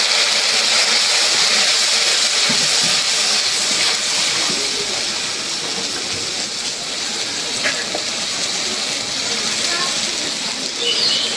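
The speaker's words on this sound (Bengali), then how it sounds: "মশলা কষানোর জন্য পানি দিয়ে দিই।" Spice paste frying in a pan after water is added, giving a loud, steady hiss of sizzling and steam that holds through the whole stretch, with a few faint clinks near the end.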